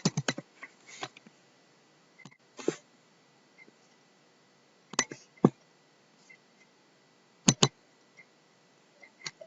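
Scattered bursts of keystrokes on a computer keyboard while entering discharge medications into a hospital order-entry system, a few quick clusters of taps separated by quiet pauses, close and fairly soft.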